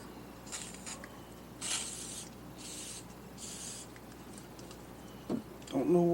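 Short aerosol spray bursts aimed into a front brake master cylinder, several brief hissing puffs at a moderate distance, followed by a few small clicks and handling knocks near the end.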